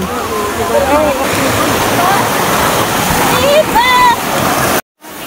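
Water rushes steadily along a stream at the Double Dragon waterfalls in Hong Kong, a constant close wash under people talking, with a few brief bird-like chirps and one sudden dropout near the end.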